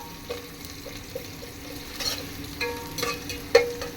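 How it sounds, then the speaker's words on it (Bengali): Onions fry in a pan, giving a faint, steady sizzle broken by occasional soft clinks and scrapes as they are stirred. "পেঁয়াজ দিয়ে দিল আম্মু, দাগানি করছে পেঁয়াজ"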